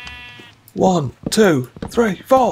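Minecraft sheep bleat several times in close succession, loud and wavering, alongside a voice speaking over the farm animal sounds in the game.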